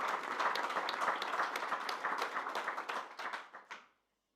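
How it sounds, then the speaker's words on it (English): An audience bursts into applause at a conference event, a dense run of hand claps close by that holds steady, then thins and fades out over the last second. "The applause for you."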